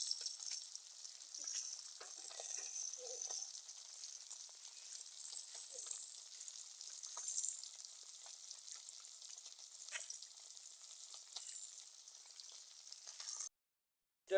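Fish frying in a pan for a winter fish dish, a steady soft sizzle scattered with faint crackles and pops that runs on and then cuts to brief silence near the end.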